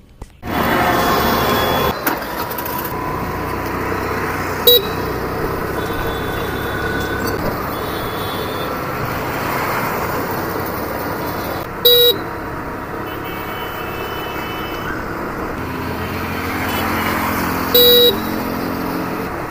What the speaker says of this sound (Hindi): तो चलिए वो चलाते हैं स्कूटर को और चला के आपके साथ शेयर करवाते हैं एक्सपीरियंस।